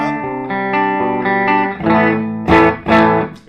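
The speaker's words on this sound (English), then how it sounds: "Here's the guitar through the amp without any pedals actually on. There's the bridge pickup." Electric guitar on the bridge pickup played straight into an amp with no pedals, ringing chords and single notes with a bright edge, loud and close, picked harder near the end.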